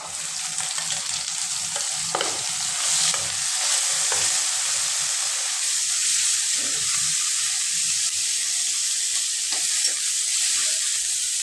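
Onion paste frying in hot oil for fish curry, with a steady loud sizzle throughout and occasional scraping stir strokes from a spatula close by.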